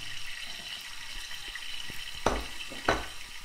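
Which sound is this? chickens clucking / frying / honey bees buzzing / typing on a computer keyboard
frying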